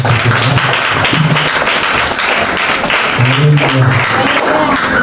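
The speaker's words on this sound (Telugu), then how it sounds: "ఒకసారి అందరూ చప్పట్లు" A crowd at a church thanksgiving gathering applauds steadily and loudly throughout, a dense, continuous wash of clapping with a faint voice briefly audible underneath.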